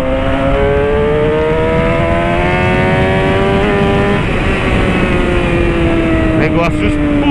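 Suzuki SRAD 750 sport motorcycle accelerating hard: a loud, close engine note climbing steadily in pitch, easing briefly, then pulling up again, with wind roar constant throughout.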